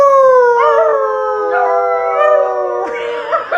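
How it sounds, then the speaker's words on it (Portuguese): A family of dogs howls together, several long, wavering, sustained howls that overlap and swell loud and close, with brief yips joining in toward the end. "Família uivando unida."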